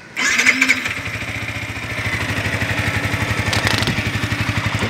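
Yamaha YZF-125R motorcycle engine cranks over and catches at close range, then settles into a steady, fairly quiet idle with an even low pulsing beat.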